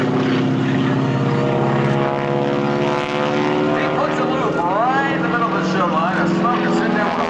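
An SNJ propeller warbird flies a full Cuban 8 aerobatic manoeuvre at an airshow, its engine droning loud and continuous with a rising and falling pitch as it loops, while an announcer talks over it.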